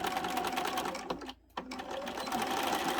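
A sewing machine stitches piping onto the front pocket of a fabric hip bag, a fast steady whirr that stops briefly and then resumes, close and alone.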